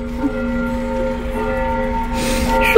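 Church bells ring quietly, giving a sustained, even hum of overlapping tones that holds steady throughout, with no voices over it.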